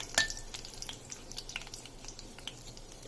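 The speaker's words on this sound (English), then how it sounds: "I have split the red chilies into 2 and I am adding it in. Let it splutter." Split red chilies spluttering in hot oil while cooking a mixed veg dry dish (santula), heard as a sharp pop at the start and then scattered faint crackles and sizzles close by.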